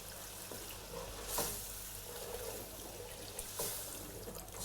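A pan of tomato, salt and tomato paste sizzles steadily as it sautés, a soft continuous frying hiss with a couple of brief stirring scrapes, no voices.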